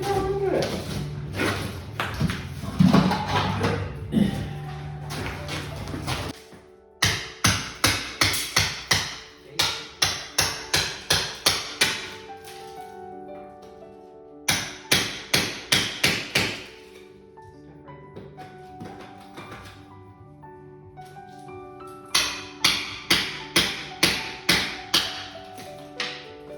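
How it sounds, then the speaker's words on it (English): A hammer strikes a chisel cutting into an old stone fireplace in a 150-year-old cottage, with fast rhythmic series of sharp close taps in repeated bursts, separated by pauses and talk. "I think you might just have to chisel through like this."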